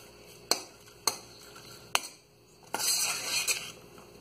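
A spoon stirs butter into curds in a metal pot for homemade Minas Gerais cheese. Three sharp clinks against the pot ring out, then a rougher burst of scraping and clinking, with no voices.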